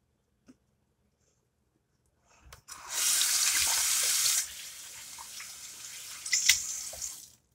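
Water runs from a tap into a bath during a morning routine, starting after a couple of seconds of near silence with a strong steady gush, then easing into a softer, continuing flow with a few splashes toward the end.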